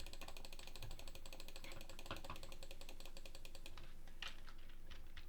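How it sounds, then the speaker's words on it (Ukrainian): A mouse clicks in quick, steady, rattling succession while someone plays a clicker video game about training legs. The fast clicks continue under quiet game sounds, with no voice heard. "Я клікаю поки що"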